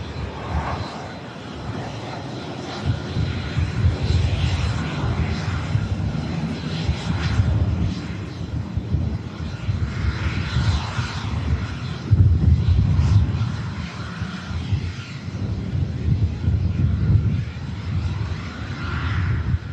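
Ryanair jet engines running at Manchester Airport, a steady broad rumbling whine that swells slightly and holds throughout, heard from some distance without talk.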